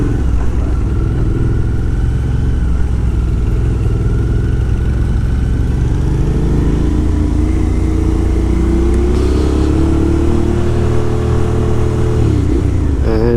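A BMW 1800cc motorcycle rumbles steadily on the road, its deep engine drone loud and continuous with wind noise, the pitch rising slightly as it revs near the end.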